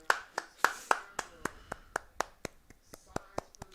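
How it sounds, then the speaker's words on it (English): One person gives a polite golf clap, about fourteen soft, evenly spaced claps close by. The first few are a little louder, and the rest keep a steady rhythm. "It's a golf clap."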